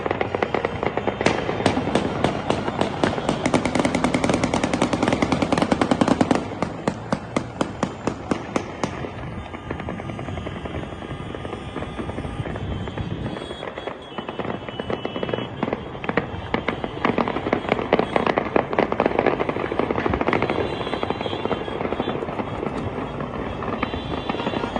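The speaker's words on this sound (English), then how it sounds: "That's celebratory gunfire." Celebratory gunfire in Damascus as people shoot into the air: rapid bursts and scattered cracks of many guns, some close and loud, others distant, keep up almost continuously over a dense crowd-like background.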